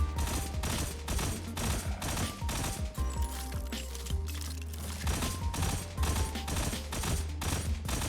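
Exotic hand cannon fire in the game Destiny Rising: a run of sharp, loud shots in quick succession over a pulsing game soundtrack, with a brief reload pause midway.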